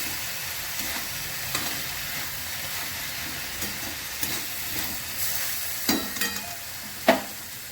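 A pan of lau (bottle gourd), bori and coriander leaves is stirred in a home kitchen, with scraping spatula strokes and soft sizzling, including a few sharper knocks near the end.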